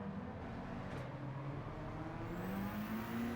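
A Peugeot RCZ Group B rally car engine in Gran Turismo 7 holds a steady note, then climbs smoothly in pitch as it pulls hard after an upshift, continuous and fairly quiet with no talking.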